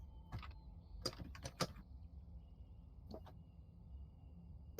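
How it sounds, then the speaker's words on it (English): Quick bursts of keyboard typing, faint and close, with clusters of rapid key clicks separated by short pauses over a low steady background hum. "Furious typing."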